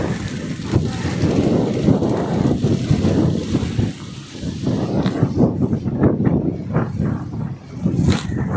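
Strong wind buffeting the microphone in loud, rough gusts while descending a slope, with brief rustling and flapping noises breaking through.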